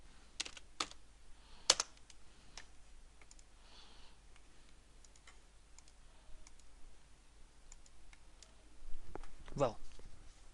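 Computer keyboard typing, soft quiet clicks and taps scattered through the clip with a few louder keystrokes, faint and close.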